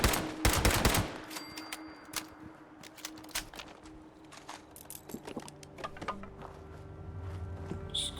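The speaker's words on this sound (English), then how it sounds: "Scorched shooting at my damn house?" Scorched enemies fire on a player's house in the game Fallout 76: sharp gunshot cracks, a quick burst at the start and then scattered single shots and rattles over a quieter background.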